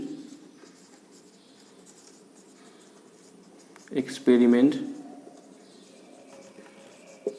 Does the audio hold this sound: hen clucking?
no